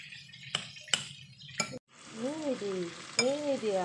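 A pot of soto ayam is stirred with a spoon, giving three sharp clinks against the pot, then a soft bubbling simmer with a few squeaky scraping sounds, close and fairly quiet.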